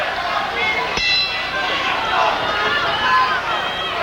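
Boxing ring bell striking once to end a round in a heavyweight bout at Harrah's in Atlantic City, a sharp clang followed by ringing, heard over crowd noise and commentary.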